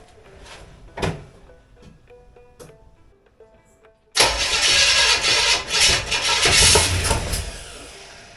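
A Chevy 283 V8 with a Rochester 2-barrel carburetor starts with a clattering crank, preceded by clicks and clanks, then roars into a loud, rough, close running sound with uneven surges.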